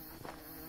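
Insect buzzing from the video game Hungry Lamu, a close, continuous droning hum of bees that swells briefly near the middle and holds steady.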